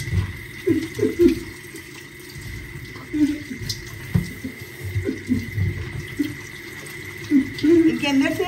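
Cold tap water runs steadily while salted food is rinsed by hand in a home kitchen, a continuous splashing stream with small sloshes, heard under a voice.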